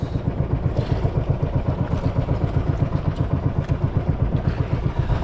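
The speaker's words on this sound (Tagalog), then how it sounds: "yung tunog ng makina" A boat engine chugs out at sea with a steady, rapid low thumping rhythm, close and constant throughout, with faint splash and wind noise behind it.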